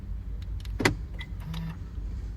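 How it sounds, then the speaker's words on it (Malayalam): A single sharp mechanical clunk of a car's central locking, followed by a faint brief whir, in an otherwise quiet setting; the locks fail to hold. "ഇനി നമുക്ക് ഇതൊന്ന് സെൻട്രൽ ലോക്ക് ചെയ്ത് നോക്കാം"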